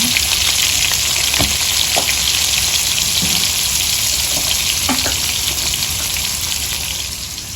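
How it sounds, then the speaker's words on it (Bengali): Potatoes fry steadily in hot oil in a wok in a village kitchen, a loud continuous sizzle with occasional crackles and stirring scrapes, no talk. "আলুগুলো ভেজে নেবে"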